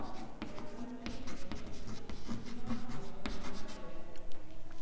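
Writing during a geometry lesson on triangles makes a soft, continuous scratching with small taps and strokes, close and fairly quiet, with no talk.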